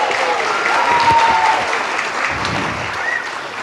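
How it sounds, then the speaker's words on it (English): A birthday party crowd claps for a singer, a loud, steady, close round of applause sustained throughout with a faint whistle-like tone briefly audible. "Can we all give her a big round of applause?"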